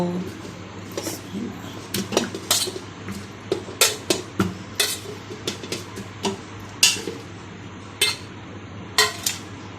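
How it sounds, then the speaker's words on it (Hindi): Clattering metal pot sounds with irregular clinks and knocks as chunks of large goat trotters are dropped into a pressure cooker, close by, over a steady low hum with occasional speech. "ये हम इसको ये ऐसे प्रेशर कुकर में डाल देंगे"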